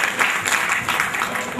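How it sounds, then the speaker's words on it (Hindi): An event audience claps in a dense, continuous burst of applause, loud and close, lasting only a moment. "जोरदार ताली।"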